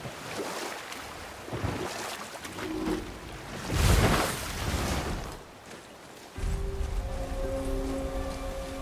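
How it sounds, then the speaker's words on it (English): A huge waterfall in the video game God of War, a broad roaring rush of falling water that swells and ebbs, with a low steady hum joining later and no talk. "I've never seen a waterfall so big."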